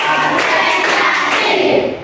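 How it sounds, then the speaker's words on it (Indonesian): Schoolchildren in a classroom clap a group rhythm pattern in unison, a steady, loud, dense wash of hand claps that holds for about two seconds before easing off. "Tepuk 4."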